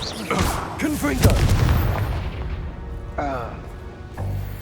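A Confringo fire-spell blast explodes in a Hogwarts Legacy combat fight, a loud booming burst with crashing debris amid other spell effects, while a player shouts casts over it.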